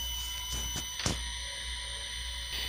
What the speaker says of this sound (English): the whistle sound you hear coming from the motor